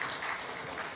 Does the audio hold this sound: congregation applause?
yes